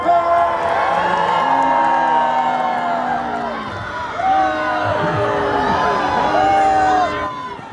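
A fairground crowd at a lumberjack show cheers and whoops steadily with loud, sustained shouting that swells and dips. An announcer talks over the noise.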